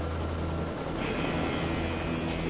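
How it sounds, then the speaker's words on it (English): Helicopter flying over Niagara Falls, its rotor and engine drone steady and close throughout, with a pulsing high whine above the low rumble. "The first step is to survey the falls in a helicopter."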